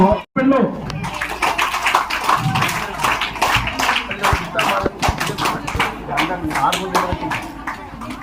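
Villagers clap at a high school Independence Day celebration, a dense run of hand claps going on steadily throughout with voices mixed in around them.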